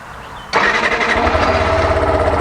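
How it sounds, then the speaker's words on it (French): Yamaha 125 motorcycle engine catches abruptly after a brief quiet moment, then settles into a loud, steady, close-up idle with a low throbbing rumble. "Je démarre mon véhicule"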